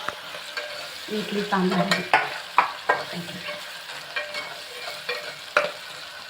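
Spinach frying in a pan for Karnataka-style idli sambar, stirred with repeated scraping strokes over a steady crackling sizzle; a brief voice is heard.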